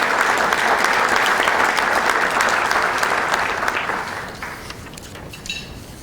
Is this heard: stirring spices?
no